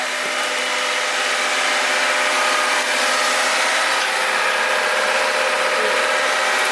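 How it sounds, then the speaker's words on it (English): A car engine idles steadily with an even, continuous hum and hiss that never changes, with no voices. "But listen to the engine."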